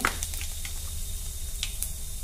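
Half spoons of mustard seeds and cumin sizzle in about three spoons of hot oil, a low continuous frying hiss dotted with sharp little pops and crackles, close and alone.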